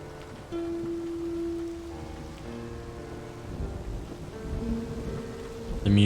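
Thunder rumbles and rain falls during a stormy stretch of the video game Flower, with low, rolling booms swelling and fading over steady rainfall, while a sustained musical tone drifts in and out; nobody speaks.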